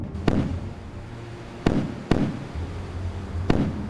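Warship guns fire in a naval video game, with four sharp booming shots at irregular intervals over a low rumbling background, loud and close.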